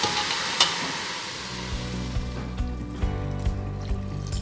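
Steady sizzling and frying crackle as boiled water is poured into masala rice, close up, a few sharp clinks near the start, continuous without talk.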